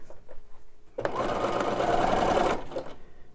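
A sewing machine runs a zigzag stitch across fabric scraps in one loud, steady burst of about a second and a half, with quiet handling noises before and after.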